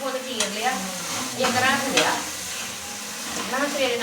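Onion, garlic, ginger, green chilli and tomato sizzle and crackle steadily in hot oil for a potato, cauliflower and pea curry, with the scrape of stirring and occasional louder spits rising over the frying.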